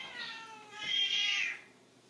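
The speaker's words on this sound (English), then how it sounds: "He's just meowing" A cat gives two close meows, a short one followed by a longer, louder drawn-out cry.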